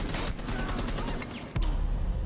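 Rapid video-game gunfire rattles continuously and loudly, with a brief dip before the burst resumes; no talk over it.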